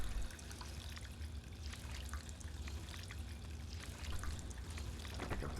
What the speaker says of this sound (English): Thankfully there's water fountains here